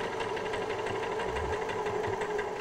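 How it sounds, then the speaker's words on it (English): A sewing machine stitching piping, a fast steady mechanical whirr and rhythmic needle chatter, close and continuous with no voices. "So again, forward and back to anchor the stitching, and then off we go down"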